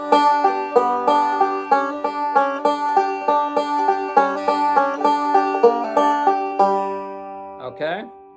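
Banjo plucking the opening three measures of a practice tune, bright picked notes in a steady rolling rhythm, close and clear, with the last notes trailing off into a short sliding pitch at the end; no talking.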